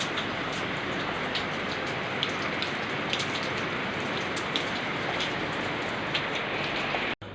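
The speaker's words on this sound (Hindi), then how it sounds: "भाई साहब रात में हो रही है जम के बारिश।" Heavy rain pours down at night over a market area, a dense, loud and steady hiss of drops on surfaces that stops abruptly at the very end.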